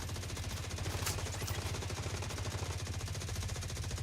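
Rapid automatic gunfire rattles continuously in a shooter video game, with a dense, even stream of shots over several seconds and a couple of sharper bursts standing out near the start.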